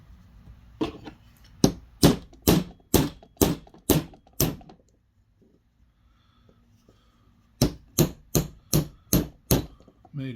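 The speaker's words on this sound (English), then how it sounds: "we're going to find our other 3D printed gear, and we're going to drive the axle in it too" An axle is hammered into a 3D printed gear in two bursts of sharp, ringing strikes, about seven blows each in steady rhythm, separated by a quiet pause with faint handling noise.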